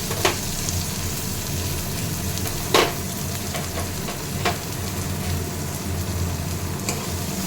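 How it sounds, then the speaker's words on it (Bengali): Onions fry with cumin in oil, a steady close sizzle with occasional sharp clinks and scrapes of stirring, no voices. "এবার আমি পেঁয়াজগুলোকে দিয়ে দেবো।"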